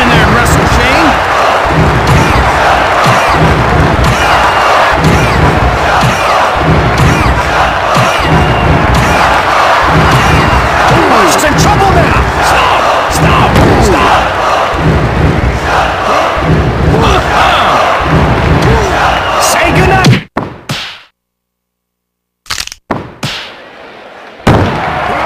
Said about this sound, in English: This crowd is all pumped up!